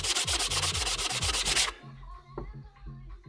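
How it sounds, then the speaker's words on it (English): A power sander grinds steadily against a Mercedes SLK 1.8 engine cover with a pulsing rasp, then cuts off abruptly, leaving a low hum and light scrapes. "Get the sander out."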